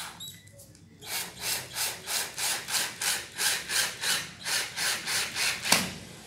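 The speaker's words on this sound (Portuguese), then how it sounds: "Com a furadeira eu venho aqui," An electric drill works through a projector screen frame in about fifteen rhythmic pulses, close and fairly loud, following a brief quieter start.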